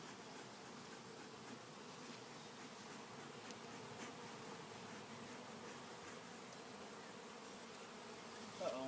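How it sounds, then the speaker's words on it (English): Honeybees on a hive frame being smoked during a beehive inspection make a steady, dense buzzing drone that stays even and close throughout, with no talk. "let's smoke these bees, get them off this part of the frame."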